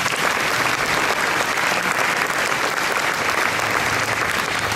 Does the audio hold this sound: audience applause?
yes